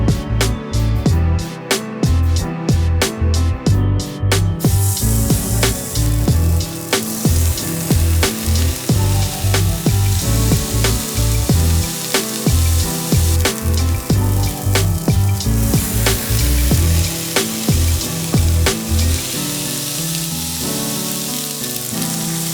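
Smash burgers fry on a Ninja Sizzle Pro XL griddle at high heat with a loud continuous sizzle, broken by repeated sharp scrapes and taps of a spatula, close up with no talking.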